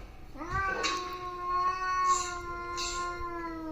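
Cats in a fight yowl and scream at each other, one long drawn-out wailing tone holding steady while sharper hissing bursts break in repeatedly, loud and close.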